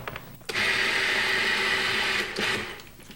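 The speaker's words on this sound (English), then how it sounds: "And blend it up" A kitchen blender whirs loudly as it purees rabbit stuffing with butter, starting abruptly, holding a steady high whine for about two seconds, then cutting out and briefly pulsing again.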